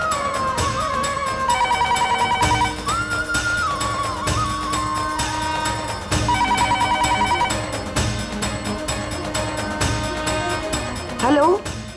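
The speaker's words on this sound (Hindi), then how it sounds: "ये फोन क्यों नहीं उठा रही है?" A telephone rings in a Hindi TV drama scene, its repeated electronic ring tone in bursts over a steady music score, with no talking.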